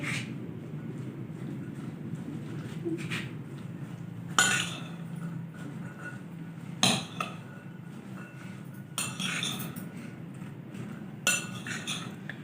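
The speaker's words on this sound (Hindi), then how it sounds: "अच्छी तरह से मिक्स कर लेंगे।" Chana chaat being mixed with spices in a bowl, with scattered light clinks and scrapes of a spoon against the dish over a steady low background hum, fairly quiet and irregular.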